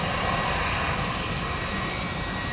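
Steady, loud roar of aircraft engines at Manchester Airport, a continuous broadband rumble and whine with no break across the stretch and no voices.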